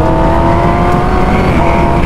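A scooter's engine runs loud and close with a steady droning hum while it is ridden through heavy rain, the tone holding steady throughout.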